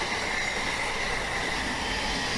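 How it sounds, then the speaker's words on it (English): An Indian Railways New Jalpaiguri–Howrah mail train with a Vistadome coach rushes past close by, giving a loud, steady rumble and rush of wheels on rails. "opposite direction mail NGP Vistadome train, NGP Howrah"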